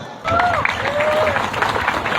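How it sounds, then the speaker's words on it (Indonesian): An audience at an Indonesian religious gathering breaks into dense clapping that starts abruptly and fills the short stretch, with a brief whistle-like tone rising early on. "Tepuk tangan dulu."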